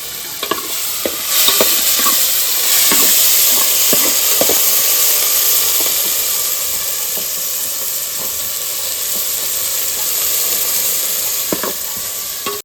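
Tomatoes and chillies hit softened frying onions in a pan for a Kathiyawadi masala veg pulao, setting off a loud, steady sizzle and hiss. Scattered clinks and scrapes of stirring break through it now and then.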